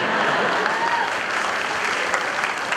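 An audience at a youth talk event in Nepal gives loud, sustained applause, a dense steady clapping that fills the whole stretch with no break.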